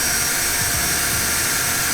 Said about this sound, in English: I'm going to drill all these holes out now that I've got it cut out.